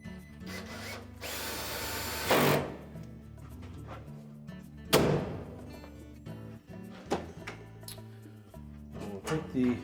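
A power driver drives machine screws into the housing of an LG dryer in short whirring bursts with tool clatter and handling noise between them, close up.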